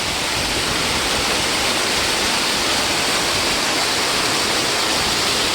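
A loud, steady roar of falling water, a waterfall at a canal in Metamora, Indiana, pouring continuously and close by, with no voices.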